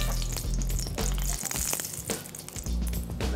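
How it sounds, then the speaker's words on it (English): Canola oil sizzles in a hot pan, a steady close crackle with bursts of popping and some clattering over a low hum, no voices. "I'm gonna take a little bit of canola oil here, put it into our hot pan"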